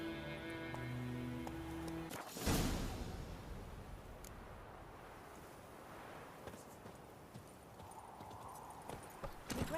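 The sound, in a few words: horse Roach's hooves clip-clopping in video game The Witcher 3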